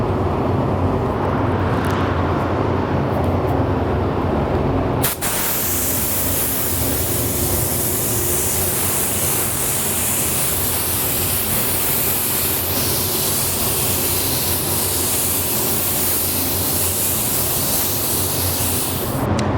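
A spray gun laying a second coat of candy paint on a car hood in a paint booth, a continuous loud hissing spray that starts abruptly and runs steadily for many seconds.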